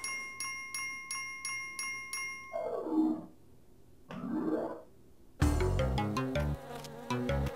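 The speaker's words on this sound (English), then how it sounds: "Not the bees!" Bees in the video game Spelunky give an electronic buzzing drone in two rising-and-falling swells, between bursts of chiptune-style game music.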